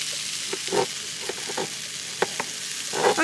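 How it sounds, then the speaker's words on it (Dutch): Chickpeas and sweet potato sizzle steadily in a hot pan at a campsite, with occasional scrapes and stirring clicks over the constant frying hiss. "Die heeft net de kikkererwten in de pan gegooid"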